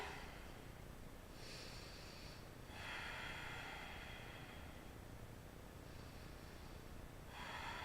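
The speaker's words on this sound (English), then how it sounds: "Hold here and breathe." Slow, deep breaths during a held core position in an ab workout, heard as airy inhales and exhales in a few separate bursts that are close and fairly soft.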